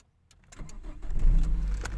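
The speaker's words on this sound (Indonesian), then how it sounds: "Kita coba starter." A 1995 Toyota Corolla engine starts after a moment of silence: the starter cranks briefly, then the engine catches and settles into a loud, steady idle close by, with no talk.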